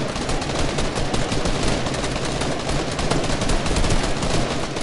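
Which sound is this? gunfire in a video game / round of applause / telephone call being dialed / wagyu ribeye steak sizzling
gunfire in a video game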